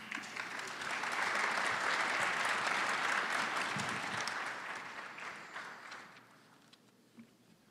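Sustained applause from a debate audience swells quickly, holds steady for several seconds, then fades into scattered claps near the end, with no talk over it.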